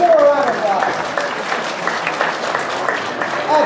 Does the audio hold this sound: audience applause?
yes